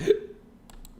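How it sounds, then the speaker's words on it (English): A single sharp hiccup sounds close and loud at the start, then faint background noise with a couple of tiny clicks follows. "Hiccups. Oof."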